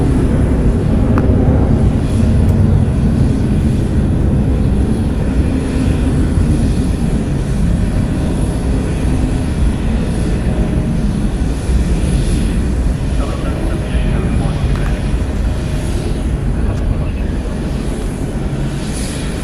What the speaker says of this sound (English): Departing is Delta Airlines flight 778 going to San Francisco. It's a Boeing 737-900ER.